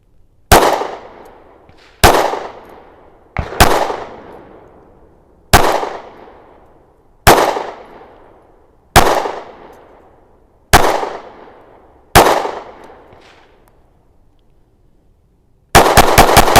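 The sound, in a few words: SIG Sauer P365 XMACRO 9mm pistol shots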